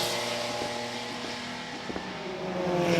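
Race cars, a Mercedes and a Radical among them, drive on a circuit during an endurance event, engines droning at a moderate distance with a few passing swells and gear changes, fairly faint throughout.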